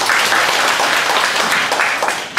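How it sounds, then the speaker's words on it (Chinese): Warm, steady applause from an audience at a Taoist cultivation seminar, dense clapping that holds level throughout, then thins slightly at the end. "那我们一样热烈的掌声欢"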